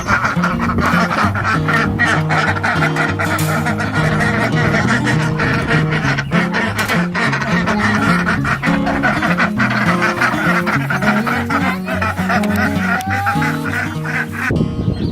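Ducks quack loudly and almost constantly, a dense overlapping chorus from a backyard flock being let out of their winter pen.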